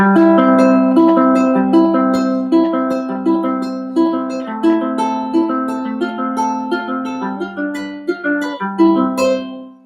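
Plucked guitar notes ring out in a steady eighth-note pattern, some held across the beat, played alone and close with a clear, bright tone.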